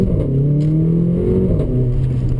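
A Mercedes GLA 45 AMG engine drones loudly from inside the cabin, its pitch rising steadily through acceleration with a brief shift-like dip, no voices present.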